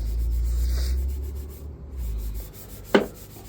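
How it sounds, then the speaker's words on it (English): Polishing cream is rubbed by hand over an aged copper gutter, a steady close scrubbing rasp followed near the end by one sharp scrape. "you need a lot of rubbing to do, but lots of rubbing"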